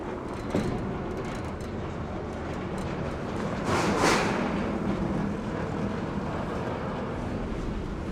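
A large airplane hangar door rumbles closed with a steady low mechanical roll and grind, swelling briefly louder midway and then continuing at an even level, with no talking.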